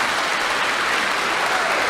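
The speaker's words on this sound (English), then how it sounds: "Applaud." A crowd claps steadily and densely throughout, a continuous wash of applause at even loudness with no break.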